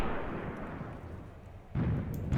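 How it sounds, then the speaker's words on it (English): Heavy rumbling battle explosions and artillery fire from the World War II tactics game Graviteam Tactics: a sustained low boom that swells into a sharper, louder blast near the end. "That explosion couldn't bode well for the men there."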